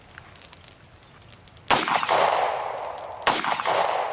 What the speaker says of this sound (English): Take your safety off. Take your two shots.